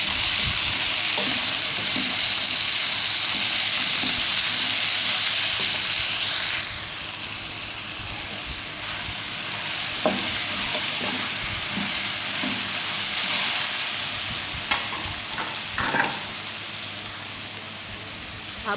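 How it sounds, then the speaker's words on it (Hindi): Tomatoes and green chillies frying in a pan, a loud hissing sizzle that drops to a lower level partway through, with occasional stirring scrapes and taps; no speech. "टमाटर और सब्ज़ मिर्च मैंने ऐड कर दी है। अब इन्हें हम फ्राई करेंगे।"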